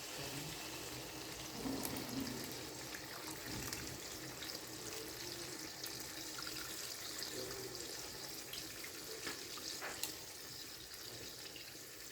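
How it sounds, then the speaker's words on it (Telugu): Strained tamarind juice is poured into a pot of brinjal curry, making a faint, steady, continuous liquid stream that runs close by with small splashes and no talking. "ఇందులో ముందుగా నానబెట్టుకున్న చింతపండు పులుసు స్టైన్ చేసుకుని వేసుకోవాలి"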